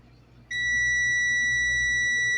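A steady, high-pitched multimeter continuity buzzer starts abruptly and holds continuously, close and loud, after a brief quiet moment, while testing a refrigerator's circuit.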